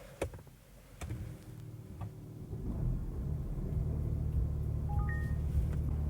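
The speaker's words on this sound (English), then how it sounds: "let's fire this thing up" A 2026 Peugeot 408 facelift starts up at night with a few interior clicks and ticks, then the engine catches and settles into a steady, low idle rumble.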